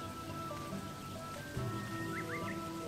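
Rain falls steadily in the rice-farming video game Sakuna of Rice and Ruin, a soft continuous patter under low background music, with a few brief chirping tones near the end.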